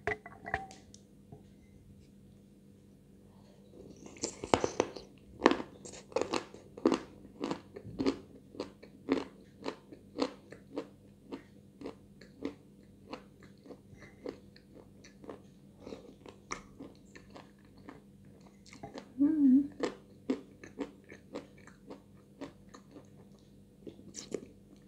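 Chalk bitten and chewed close up, a long run of sharp dry crunches in a steady chewing rhythm, with a louder cluster of bites near the end and no talk over it.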